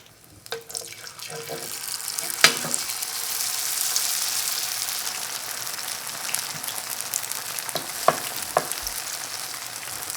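Tofu frying in a 12-inch skillet for sweet crunchy dubu-ganjeong, a dense hiss of hot oil that builds and holds, punctuated by sharp clicks and taps from a utensil, with faint voice in the background.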